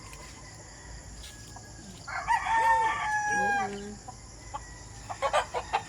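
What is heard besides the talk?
fighting roosters crowing and clucking outdoors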